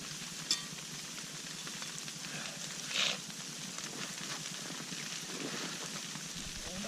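Frozen food with cheese sizzling as it cooks over a campfire in an igloo fort in extreme cold, a steady soft crackling hiss throughout with a couple of brief pops, fairly faint and without talking.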